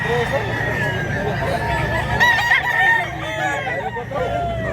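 Roosters kept by a poultry seller in Cebu crow in strained, rising calls over a busy background, with people talking nearby.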